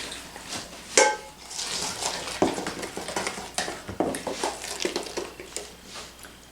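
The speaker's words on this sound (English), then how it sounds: "so we'll stir this in." Syrupy peanut butter sheet cake batter being stirred in a bowl: wet, irregular sloshing and scraping strokes with clinks against the bowl, moderately close and alone without talk.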